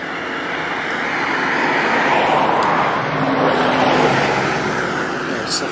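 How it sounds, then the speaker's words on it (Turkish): A safari vehicle drives past at Victoria Falls in Zimbabwe, its engine and tyre noise swelling into a broad, steady roar that peaks mid-pass and then slowly fades, with no talk over it. "Evet, safari aracı da geçiyor."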